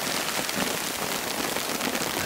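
Heavy rain with hail drums hard and steadily on a tent or surface during a winter storm while camping, a dense, loud, unbroken hiss with no voices.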